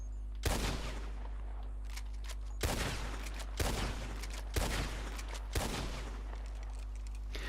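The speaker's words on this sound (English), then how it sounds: "Let's empty this rifle." Arthur's rifle in Red Dead Redemption 2, fired until the magazine runs dry: five loud single shots spaced one to two seconds apart, each with a booming echoing tail, over a low steady game hum.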